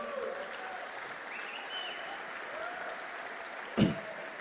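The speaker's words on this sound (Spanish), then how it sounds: "Dale un fuerte aplauso a Dios." A church congregation applauds in a soft, continuous patter that sounds fairly distant, with a single sharp knock near the end.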